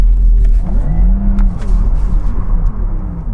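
Porsche Taycan Sport Turismo GTS, an electric four-wheel-drive car, spinning as it slides, with a loud low rumble, a whining motor tone that rises and falls, and tyre noise, no voices.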